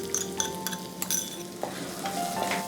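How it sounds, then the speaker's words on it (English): Chopped ginger and a pinch of asafoetida sizzle steadily in a hot pan for Punjabi sarson ka saag, with a spatula stirring and clinking against the metal in light, irregular taps. "Saute these for about 30 seconds and then add finely chopped onions"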